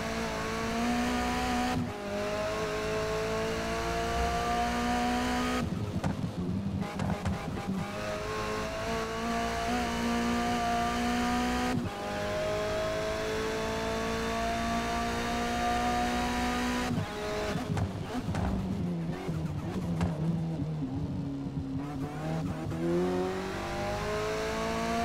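An MG6 XPower touring car engine in Forza Motorsport revs hard through repeated upshifts, each gear climbing steadily before a sharp break, loud and continuous with tire noise and no talk.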